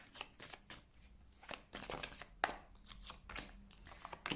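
Tarot cards being shuffled by hand during a reading, a rapid series of crisp riffling bursts and soft slaps repeating close up, with no talk.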